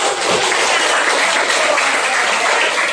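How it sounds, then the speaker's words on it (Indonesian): Steady, dense clapping from a crowd in a classroom fills the whole stretch, loud and even with no pauses and no voices standing out. "kita beri tepuk tangan"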